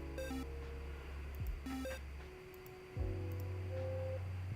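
Electronic beeps and tones of a phone being dialed in an indie video game, short beeps in two bursts followed by a steady low tone, over a faint background hum.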